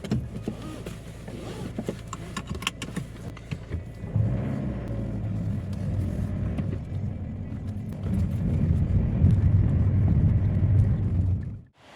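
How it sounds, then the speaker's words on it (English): Car interior on the road, a low steady rumble of engine and tyres that grows louder and heavier midway, with small clicks and knocks early on, ending abruptly. "Back in the car again."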